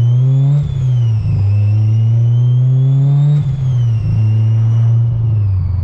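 A built widebody Honda S2000 engine, still in break-in, drones loudly and close from inside the cabin while driving, holding a strong steady tone with brief dips at gear shifts and rising revs.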